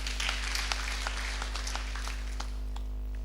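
A congregation at a Kikuyu church service claps together for the Lord, a continuous patter of hands over a steady low hum, moderately loud and without talk.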